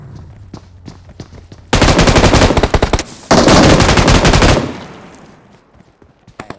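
Loud, close bursts of M249 light machine gun fire in a video game: two sustained rapid-fire volleys separated by a brief pause, then a decaying tail with a few scattered shots.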